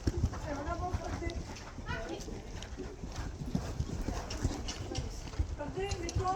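Horse hooves clip-clop in a steady rhythm during a riding lesson in an arena, close and clear, with a riding instructor talking over the hoofbeats throughout.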